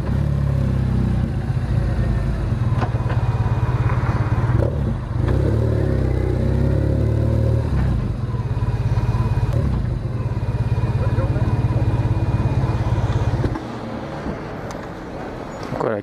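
A motorcycle ridden on the road in daylight, its engine a steady loud drone with some clatter and a brief change in tone near the end, heard close up from the rider's position.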